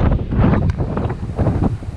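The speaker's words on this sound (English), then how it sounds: "I was not expecting it to be as windy as this today." Gusty wind buffets the microphone during a long off-road bike ride on a hybrid commuter bike, a loud continuous low rumble that swells and eases in waves with no voices.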